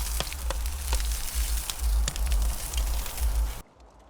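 Chicken sears skin-down over direct heat on a kamado grill, a loud close crackling sizzle with sharp pops and low rumble, cut off abruptly near the end.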